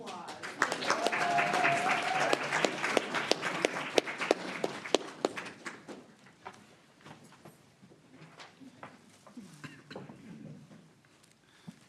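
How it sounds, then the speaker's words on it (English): Loud clapping from a crowd at a school board meeting, steady at first and then thinning out into scattered claps, with a few voices murmuring underneath. "One more round of applause."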